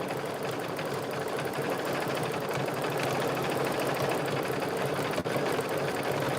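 Embroidery machine stitching out a large design, a fast continuous mechanical whirring and rattling at moderate level, with one brief dip near the end.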